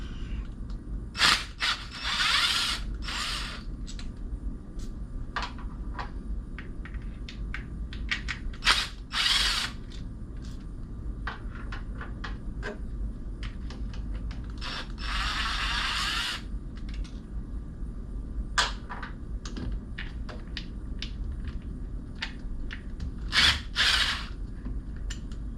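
Impact gun zipping bolts off LS engine coil packs in a garage, with repeated short buzzing bursts and rattling between them, loud and close over a constant low hum.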